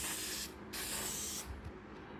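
Aerosol spray coating a car headlight during a cheap restoration, two or three close, loud hissing bursts in quick succession with brief gaps, no voices.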